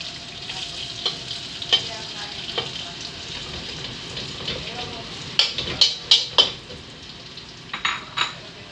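Ginger sautéing in a home kitchen pan makes a soft, continuous sizzle, cut by a run of sharp metal spatula scrapes and taps against the pan, some in quick bursts, while a voice talks at points.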